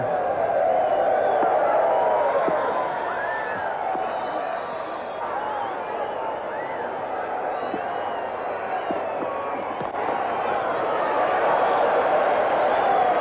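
Large cricket stadium crowd roaring and cheering as spectators try to start a Mexican wave, a dense continuous swell of voices with whoops and whistles, steady and loud throughout.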